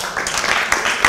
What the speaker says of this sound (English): Cheering, screaming, booing.